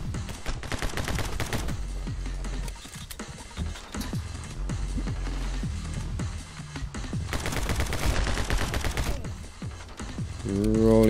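Rapid gunfire from the video game My Friend Pedro, loud and nearly continuous, with dense overlapping bursts of shots that briefly thin out before surging again.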